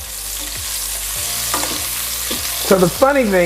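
Italian sausage fries in a pan, with a sizzle and regular scraping stirs every half second or so, and a voice briefly speaking near the end.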